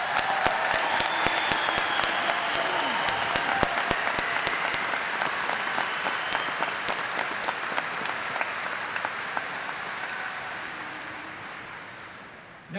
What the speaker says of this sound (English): let's start this ceremony by recognizing our graduates with a hearty round of